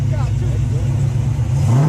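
A car's engine revs at a car meet, a loud low rumble close by throughout, rising in pitch at the end as voices chatter over it.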